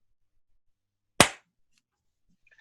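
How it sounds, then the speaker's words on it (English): A single sharp hand clap breaks a stretch of near silence, loud and close with a short decaying tail, then the room goes quiet again. "I'm going to do a quick clap in a second"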